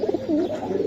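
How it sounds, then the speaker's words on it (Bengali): A pigeon of the parrot-like 'tota' type coos in a short, close, clear burst with no talk over it. "খুবই সুন্দর কবুতর"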